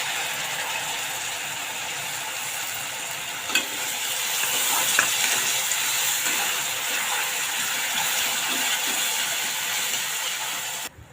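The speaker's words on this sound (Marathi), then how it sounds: "कांदा आणि टोमॅटोची प्युरी आपण मिक्स करून घेतलेली आहे चांगली परतून घ्यायची" Onion and tomato puree sizzle in a pan for vegetable korma, with a steady loud frying hiss and occasional scraping stir clicks close by, and no talk.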